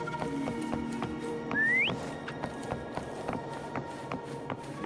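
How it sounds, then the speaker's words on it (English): A short rising whistle calls a creature in the video game Wuthering Waves, heard once in the middle over soft rhythmic footsteps and a faint game ambience. "Why don't you call Foam over? Try whistling."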